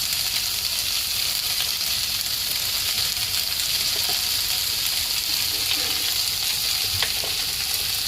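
Spices fry in a pan as the base for a potato, pea and cauliflower curry, giving a continuous, even sizzle and crackle that holds steady throughout with no talk over it.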